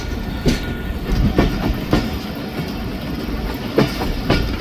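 The Khyber Mail passenger train rolls along the rails with a steady rumble broken by irregular clickety-clack wheel beats over the rail joints, heard from on board with no voices.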